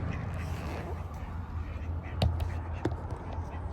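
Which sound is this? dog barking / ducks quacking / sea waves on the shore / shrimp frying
ducks quacking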